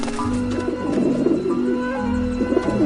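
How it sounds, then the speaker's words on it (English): Pigeons coo on a rooftop in a PS4 video game, a steady low warbling that overlaps and repeats throughout the short stretch, fairly loud and close, with no talking. "Run, you pigeons!"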